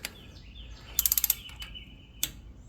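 A torque wrench on an 11 mm socket tightening a bolt on a Kohler engine starter gives a quick run of about six faint ratcheting clicks in a quiet room.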